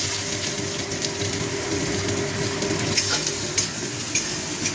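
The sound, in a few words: onion frying in oil with dried chilli and cumin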